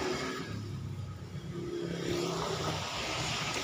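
A Suzuki Satria FU motorcycle revs hard while its rear tire spins, giving a steady, loud, rough engine roar that holds for several seconds with no talking.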